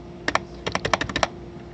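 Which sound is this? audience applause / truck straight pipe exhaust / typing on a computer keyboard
typing on a computer keyboard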